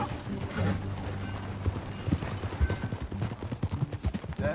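Horse hooves clip-clop in the Red Dead Redemption 2 video game, a steady run of close, rhythmic hoofbeats over a low ambient bed, growing more distinct and punchy toward the end.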